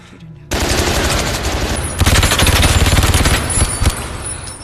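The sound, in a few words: gunfire barrage in film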